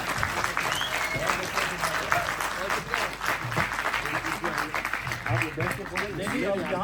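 Loud, sustained applause from an audience at an Urdu poetry mushaira recital, dense clapping throughout with crowd murmur underneath.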